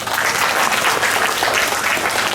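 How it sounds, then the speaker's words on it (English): An audience at a school declamation competition applauds after a speech, a loud, dense, unbroken burst of many clapping hands that fills the whole moment with no talking. "Let's bring the house down by applauding for him"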